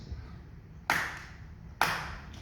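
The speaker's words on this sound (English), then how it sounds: "so I clap my hands" Two sharp hand claps, spaced about a second apart, ring out against a quiet background.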